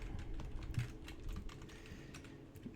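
Someone typing code on a computer keyboard, a quick irregular run of soft key clicks close by, fairly quiet and without speech.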